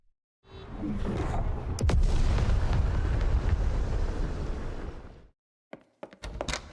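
A huge comet impact explosion for a sci-fi animated drama: a sudden heavy roaring blast that rumbles on for several seconds, then cuts off into brief sharp bursts.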